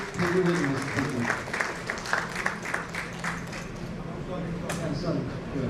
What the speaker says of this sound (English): I think we should do a big clap for ourselves to come here